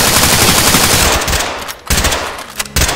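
Automatic gunfire with recoil in the tactical shooter game Ready or Not, loud rapid bursts filling the first half, then a brief gap and further shorter bursts, no talking over it.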